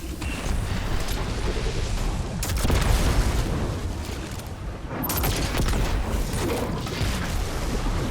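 Dense, continuous barrage of rocket blasts and Witherhoard grenade launcher fire in Destiny 2, loud booms and mechanical clatter layered over each other throughout with brief lulls.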